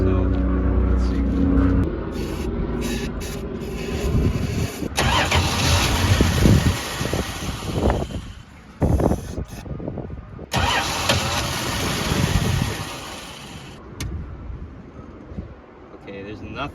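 A 1968 Dodge Dart engine is cranked on fresh fuel, with loud repeated starter whirring in several bursts separated by pauses, the engine catching briefly and sputtering up close, and someone talking in between.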